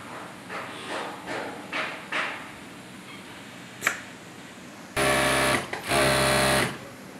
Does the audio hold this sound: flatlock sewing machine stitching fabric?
yes